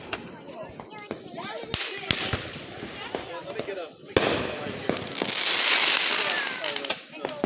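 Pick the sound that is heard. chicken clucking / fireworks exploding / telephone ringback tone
fireworks exploding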